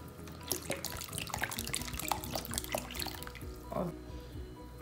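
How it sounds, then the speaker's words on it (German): Still water poured from a bottle into cold Russian okroshka soup made with kefir: close, continuous splashing and trickling with scattered drips, fairly loud throughout. "Jetzt gebe ich eine ganze Flasche stilles Wasser dazu."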